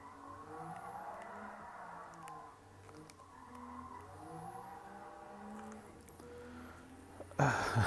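A turbocharged rally truck engine drones and revs in varying swells, with rising and falling whine, ending in a sudden louder burst near the close.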